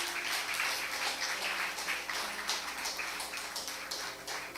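A church congregation claps during a Sunday service, a sustained patter of many hands that swells early and gradually thins out, fairly close and without talk.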